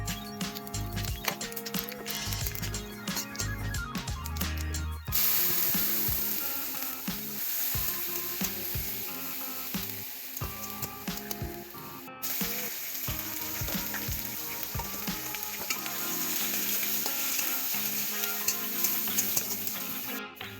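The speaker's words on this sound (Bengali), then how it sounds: "এবার ওই তেলেই দুটো তেজপাতা, জিরা ও সামান্য কুচি করে রাখা পেঁয়াজ হালকা করে ভেজে নিলাম।" Two bay leaves, cumin and a little chopped onion frying in oil for a home-style chicken curry, a continuous close sizzle broken by clattering stirring and scraping sounds, with no voices.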